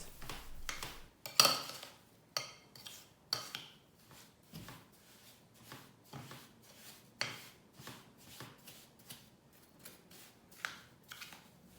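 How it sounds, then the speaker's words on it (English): Cheesecake base crumbs for a pumpkin cheesecake being mixed with a spoon, giving close, rhythmic scraping and gritty crunching strokes against the bowl, steady and fairly quiet with no talking. "Now I mix it with a spoon or glove until it is like wet sand."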